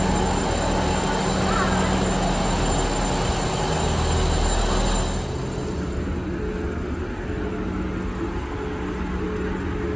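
A South Western Railway train bound for Salisbury makes a loud, steady rumble heard from inside the carriage, and the noise drops to a quieter drone about halfway through.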